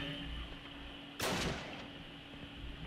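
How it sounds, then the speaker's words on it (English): A burst of gunfire plays back in a Call of Duty kill cam: one sharp, loud report rises out of a steady hum of game noise, with no voices. "in this kill cam right there, I'm firing, and what, you hear maybe like 10 shots"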